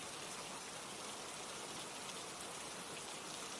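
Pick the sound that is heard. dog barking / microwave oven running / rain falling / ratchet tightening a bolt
rain falling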